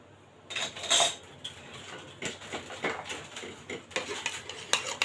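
A stuffing mixture for potol stuffed with beef is stirred in a bowl, the spoon scraping and clinking against the sides in irregular bursts, close and moderately loud, with no talking.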